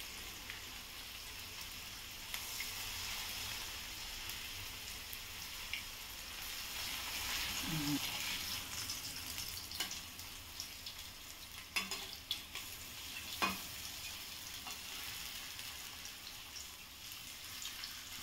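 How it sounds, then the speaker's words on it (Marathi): Fish pieces coated in rice flour fry in a generous amount of oil in a pan, a soft, continuous sizzle heard fairly quietly, with a few scattered clicks and clinks from handling. "मच्छी फ्राय झाली आपली"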